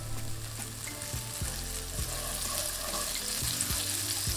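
Knobs of butter melting in a frying pan over low-medium heat, a steady close sizzle and crackle with a few light clanks of utensils against the pan.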